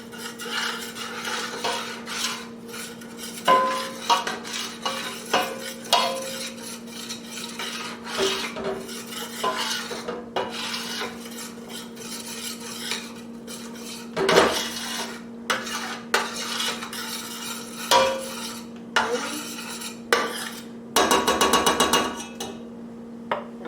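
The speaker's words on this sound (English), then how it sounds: "After your butter is melted, you're going to add your half cup of flour. And you want to stir that around." Flour is stirred into melted butter in a pan, making repeated scraping and rasping strokes of a utensil against the pan, steady and close, with a few louder clatters and a short rapid burst near the end.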